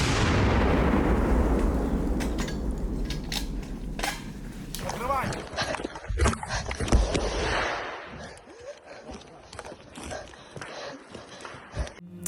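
An artillery gun fires with a loud, heavy boom that rolls off into a long rumbling decay, followed by clattering field noise and muffled voices.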